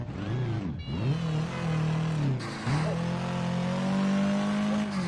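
Car engine in the video game Sleeping Dogs drones steadily as the car is driven, with pitch shifting through gear changes and throttle dips, loud and close with no talk over it.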